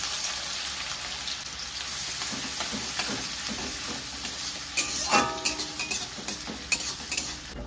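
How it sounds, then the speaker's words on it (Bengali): Dried red chillies and chopped onion go into hot oil and fry, giving a dense, crackling sizzle with sharp pops and stirring scrapes that grow busier toward the end, close and without any voices. "তেল বসিয়ে দিয়েছি, তেল গরম হয়ে গেছে। দিয়ে দিচ্ছি শুকনো লঙ্কা, দিয়ে দিচ্ছি পেঁয়াজ কুচি,"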